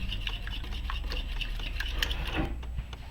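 Ingredients for pan-fried sand dabs being mixed together in a bowl, a continuous close rubbing and stirring scrape with small clicks, steady throughout.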